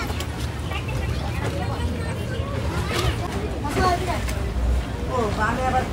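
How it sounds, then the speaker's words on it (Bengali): A boat ride through Venice carries a steady low engine rumble and water noise. Several people talk and call out over it throughout, close by. "আবার যাচ্ছি নৌকা দিয়ে"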